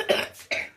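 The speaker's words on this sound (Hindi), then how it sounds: "खांसी हो गई इसको" Two quick, harsh coughs close by, the second following after a short pause.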